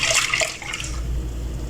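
A little water swirled and shaken inside a jug holding leftover almond sharbat mixture, a short close sloshing burst that fades into a low steady hum.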